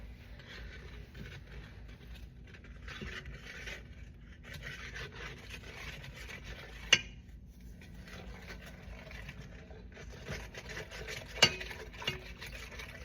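Whisk scraping around a bowl, a continuous rough rasping in uneven strokes with brief pauses and a couple of sharp clinks against the side, close and fairly quiet.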